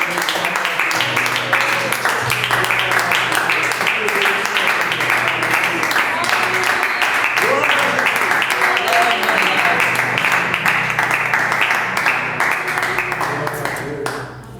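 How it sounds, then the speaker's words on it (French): Church congregation applauding during a Sunday worship service, dense steady clapping filling the room for the whole stretch, with voices and music mixed underneath before it fades slightly at the end. "Acclamons encore le Seigneur"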